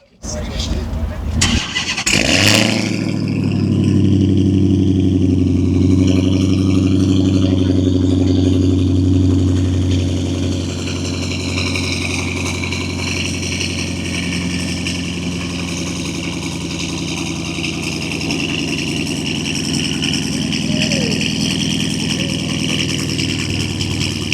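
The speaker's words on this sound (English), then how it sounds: "Aftermarket exhaust, quite loud. It's a full header back exhaust." A 2018 Dodge Challenger SRT Hellcat fitted with an aftermarket full header-back exhaust and no resonator starts with a sharp crank, then settles into a loud, deep, steady idle rumble that holds close and continuous.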